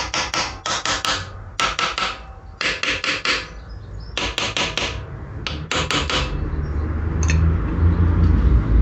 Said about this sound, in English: Little toffee hammer. Probably should use a rubber mallet on this.